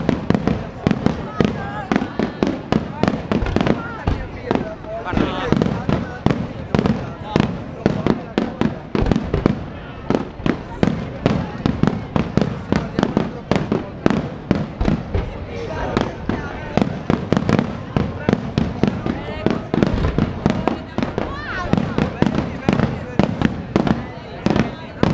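Fireworks at the Redentore festival in Venice, a dense continuous barrage of sharp bangs and crackling bursts in quick irregular succession, loud and close throughout, with occasional crowd noise beneath.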